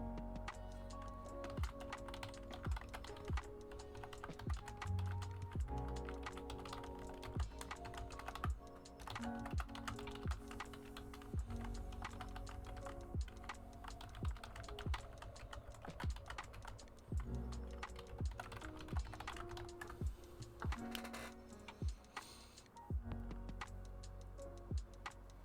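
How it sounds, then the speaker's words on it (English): Typing on a computer keyboard during a digital art session, rapid irregular clicks of keys close up, continuous over a long stretch with short pauses. "I'm sorry, I'm typing again."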